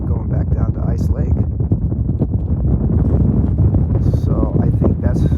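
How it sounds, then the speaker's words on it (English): Wind buffeting the microphone on a mountain near Ice Lake in the Wallowas, a constant low roar that runs through the whole clip with a few higher rustles. "It's getting windy."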